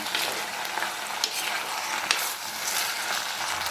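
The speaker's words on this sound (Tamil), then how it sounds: "நல்லா இந்த எண்ணெயிலேயே போட்டு சிக்கனை வதக்கியாச்சு" Pieces of chicken sizzling and sautéing in hot oil for chicken kulambu, a steady crackling fry with occasional stirring scrapes, close by and without speech.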